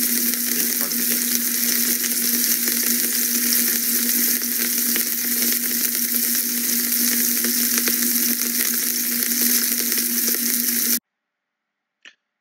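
Marinated steak fries in oil in a pan, a loud, constant close-up sizzle with a steady hum underneath, running unbroken until it cuts off abruptly, followed by near silence and one small click; no speech.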